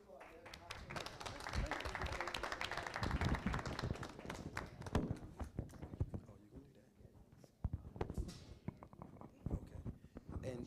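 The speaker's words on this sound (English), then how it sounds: "Can we applaud that?" Applause from an audience at a community health program evening, dense scattered clapping with voices mixed in, fairly faint and distant, thinning out toward the end.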